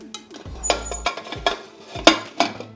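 A metal cake tin for a rava panchamrut cake is set onto a rack inside a pressure cooker, and the lid is closed: a series of close, sharp metallic clanks and knocks with short pauses between them.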